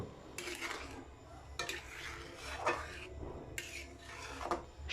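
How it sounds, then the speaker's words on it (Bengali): Vermicelli and milk payesh stirred in a pot, repeated slow scraping sweeps of a spoon against the metal in a loose rhythm, close but soft, with no voices. "সব কিছু ধীরে ধীরে নাড়াচাড়া করব এবং সেটা ফোটাতে থাকব"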